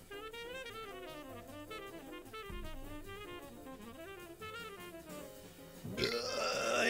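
A commissioned burp, a sustained guttural belch stretching across several seconds at an even level, swelling louder near the close, with a busy steady backdrop behind it.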